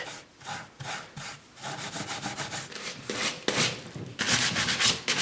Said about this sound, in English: So lightly rubbing in places, like I said, to create that natural worn look.